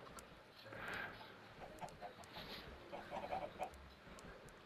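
Minecraft chicken clucking softly in short bursts, fairly faint against a busy hiss of game ambience, with no talking over it.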